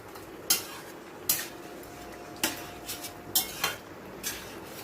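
Roasted ground spices are stirred into a curry in a pot. A utensil scrapes and knocks against the pot in about six uneven strokes, moderately loud over a quiet kitchen background.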